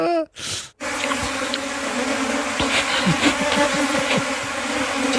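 Dense, continuous buzzing of many live bees close by on a honeycomb being eaten, with faint scattered drips and clicks beneath it.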